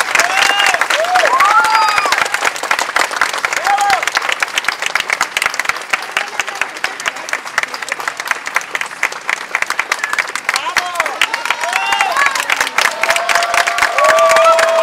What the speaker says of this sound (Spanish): ¡Fuerte, fuerte aplauso!